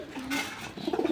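Indian Lotan pigeons coo in short, soft, low bursts toward the end, after a brief breathy flutter, close by and fairly quiet.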